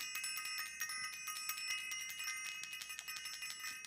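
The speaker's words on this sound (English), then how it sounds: "I want to ring the bell" A bright metallic bell rung repeatedly in quick strikes, faint and thin with a shimmering ring, sounding alone without any talk.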